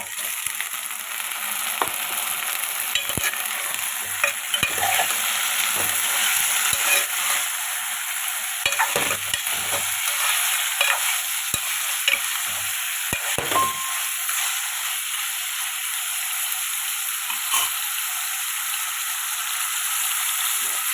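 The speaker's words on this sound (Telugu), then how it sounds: "ఇప్పుడు పీతలు వేస్తాను" Crabs frying in a pan, a constant bright sizzle with intermittent spatula scrapes and knocks, close and steady with no talking.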